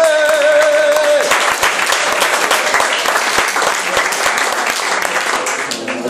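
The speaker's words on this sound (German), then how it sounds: "für beide jetzt mal einen Applaus für die beiden Fans" Applause for two fans at a football club fan meetup, a dense burst of clapping from a room of people that starts as speech ends and carries on steadily for several seconds.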